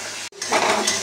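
Pointed gourd (potol) fries with spice paste in a pan, a brief clatter and a short gap giving way to a steady, fairly loud sizzle.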